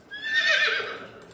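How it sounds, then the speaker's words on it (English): A horse whinnies in a Playhouse Disney farm video game, Farm Fresh Stanley (2001): one short, close, shrill neigh that rises and then fades, heard alone. "horse,"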